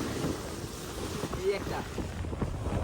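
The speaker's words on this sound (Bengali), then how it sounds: "যে দুইটা বড় ঢেউ মারছেন আপনি" River waves slap and rush against a boat on the Padma during the monsoon season, a broad, churning wash mixed with wind buffeting, while people talk faintly in the background.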